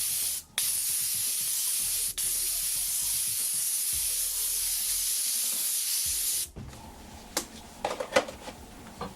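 An airbrush laying down a wide spray makes a loud, steady hiss that runs for several seconds with a couple of brief breaks. It then cuts off, leaving faint tapping and handling noises.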